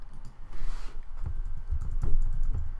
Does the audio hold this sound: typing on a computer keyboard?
yes